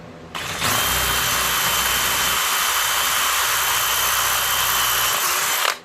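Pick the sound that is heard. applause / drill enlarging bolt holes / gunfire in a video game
drill enlarging bolt holes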